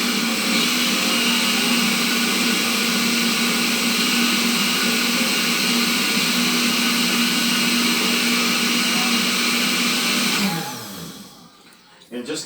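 A kitchen blender grinds tomatoes for Nigerian jollof rice, a loud, steady motor whine with a constant pitch that runs alone for about ten seconds before winding down and cutting off near the end.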